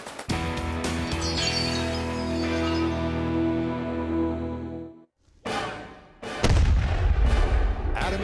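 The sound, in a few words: period-accurate cannon firing improvised ammunition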